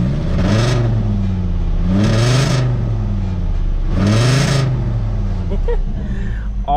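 A Volkswagen VR5 engine with an exhaust leak revs up three times in a steady rhythm, each rise rasping and loud, with a rattly exhaust edge between the pulls.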